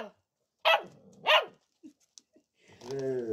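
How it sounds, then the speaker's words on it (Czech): Two sharp dog barks close by, followed by a whimpering whine, with quiet pauses in between. "On se bojí, on se bojí, tak štěká."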